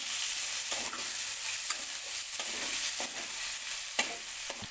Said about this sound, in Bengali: হালকা লাল লাল করে ভাজবো বেশি ভাজবো না কারণ চিলি চিকেনের পেঁয়াজ বেশি ভাজা থাকে না